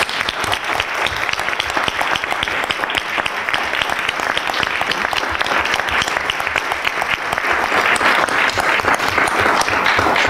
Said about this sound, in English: maybe just one more round of applause for all of our students